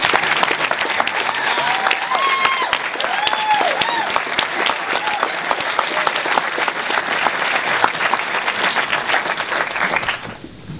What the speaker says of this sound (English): please stand up and let's give them applause